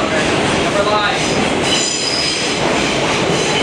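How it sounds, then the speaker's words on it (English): A New York City subway train, a 5-line car running on the 2, pulls into Wall Street station up close: loud rumbling wheels, screeching squeals and clattering rail noise filling the platform without pause. "They're using a normal five train on the two today. Pull into Wall Street."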